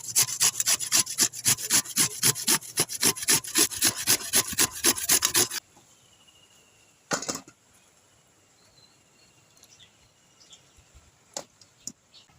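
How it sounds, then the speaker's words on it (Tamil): A carrot is rubbed against a grater in a home kitchen, giving a fast run of even, close scraping strokes for about five seconds, followed by quiet with a few scattered knocks. "கேரட்டை துருவிக்கலாம்."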